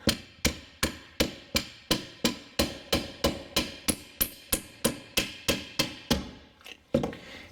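A hammer taps a steering column shaft about seventeen times in a steady, evenly spaced rhythm. The sharp metallic strikes are close and loud, and a couple of uneven blows follow after a brief pause.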